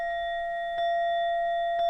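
Meditation timer app bell set to three strikes: a sustained ringing tone with two further clear strikes about a second apart, each renewing the steady chime, played alone and fairly soft.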